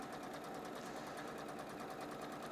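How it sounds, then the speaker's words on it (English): A sewing machine hums in a steady, rapid rhythm as it stitches straight along a drawn line on batik quilt-block fabric, quiet and continuous with no voices. "I'm going to sew on that drawn line, not use it as a guide"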